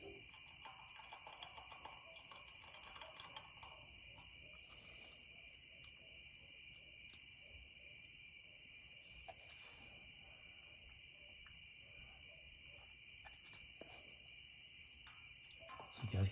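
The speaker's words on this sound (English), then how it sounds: "So you guys can probably hear the crickets." Crickets chirping in a steady, continuous high trill, faint and distant, with a few soft scattered clicks and rustles, no voices.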